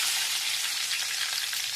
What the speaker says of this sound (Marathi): तेल गरम झालं. यामध्ये घालूया मोहरी